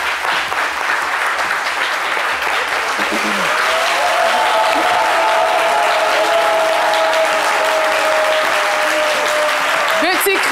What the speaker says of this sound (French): Merci d'applaudir le couple Blé.